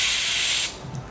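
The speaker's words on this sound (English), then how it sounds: "Careful, because the carb cleaner, you can see, will spray out of these holes" Carburettor cleaner from an aerosol can sprays in one loud, close hissing burst lasting a little over half a second, then cuts off abruptly into near quiet during a Dellorto carburettor service for a Vortex Mini Rok kart engine.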